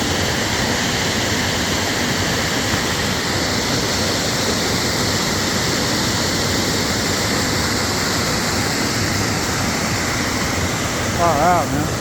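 Waterfall at Bodhi Falls near Mount Saint Helens, a loud continuous broadband roar of falling water filling the whole stretch, with a brief faint voice-like sound near the end.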